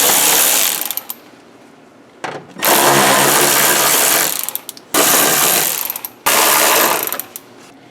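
Ratchet wrench loosening four 10mm bolts that hold a car radiator shroud, heard close up as three long bursts of rapid clicking with short pauses between them, no talking.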